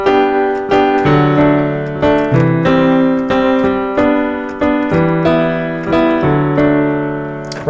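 A sequence of chords played as an example piece. The struck chords are bright and piano-like, arriving in an even rhythm roughly every two-thirds of a second, with each one decaying before the next, clear and close.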